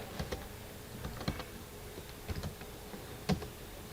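Sparse keystrokes on a computer keyboard while an HTML anchor tag is typed, a few quiet scattered clicks and small bursts over a faint steady hum.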